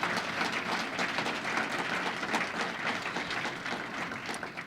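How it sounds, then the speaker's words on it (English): Audience applause at a public event on economic growth and infrastructure in New York, a dense, even patter of many hands clapping, moderately distant and steady for the whole span. "Could you give them another round of applause?"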